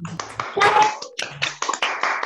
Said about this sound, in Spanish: Vamos a aplaudirla, Gaby